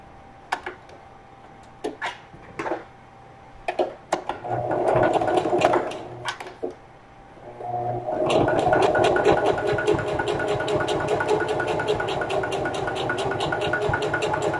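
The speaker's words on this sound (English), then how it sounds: "Just hold it gently and let the sewing machine feed it through." Domestic sewing machine running a straight seam along tote bag handles: a few short start-stop bursts of needle chatter, then steady continuous whirring stitching at close range, with no talk.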